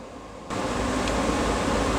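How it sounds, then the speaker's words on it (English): An air conditioner in a school staff room kicks on after a brief quiet moment, then runs as a steady, loud broadband whoosh with a low hum underneath. "we have air conditioning in our staff room"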